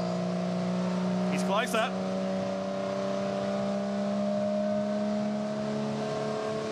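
Holden HQ race cars at Symmons Plains roar past in a steady, droning engine note with a sharp pitch sweep as one passes close by, under a commentator's voice.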